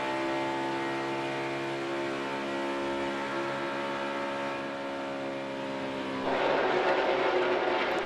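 NASCAR Cup race car at Kansas Speedway heard from the in-car position: a steady, loud, near-constant engine drone held nearly wide open, with a rougher, louder surge of wind and engine noise in the last couple of seconds.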